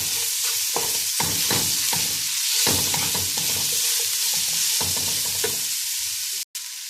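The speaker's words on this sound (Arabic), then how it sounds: "هنروح نازلين بالجزر المبشور اللي هيطعم لنا الرز بتاعنا. هنشوحه برضو خفيف." Grated carrots sautéing in a pan for basmati rice, a steady close sizzle with repeated scraping stirs throughout and a sudden short cut near the end.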